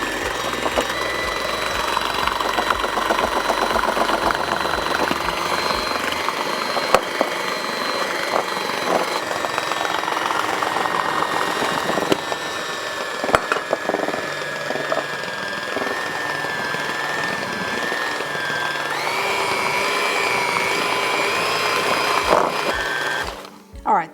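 An electric mixer blends preacher cake batter on low speed with a continuous whirring motor hum, shifting slightly in pitch partway through before cutting off abruptly at the end.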